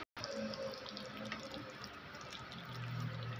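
Tap water runs into a cooking pot while corned beef spaghetti sauce is being made, giving a continuous splashing gush. It stays fairly quiet and steady, and a low tone rises near the end.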